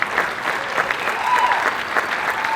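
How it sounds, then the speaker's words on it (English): A crowd claps for the inductees at a high school sports Hall of Fame ceremony, with dense, steady applause from start to finish and faint voices underneath. "a big round of applause for all our inductees in the 2025 South Fayette High School Hall of Fame"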